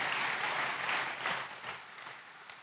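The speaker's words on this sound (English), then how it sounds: "Clap for Jesus." A church congregation claps together in sustained applause, a dense wash of hands that stays steady and fairly close before thinning slightly toward the end.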